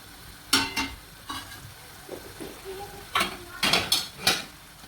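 Tomato masala in separated oil is stirred on a high flame for daal mash, with a low sizzle underneath and several sharp spoon-against-pan scrapes in irregular bursts, close by.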